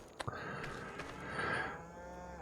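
Farm animals on a small farm in the Farming Simulator video game, presumably donkeys, give one drawn-out braying call with a loud burst at the end, fairly close, with no talk.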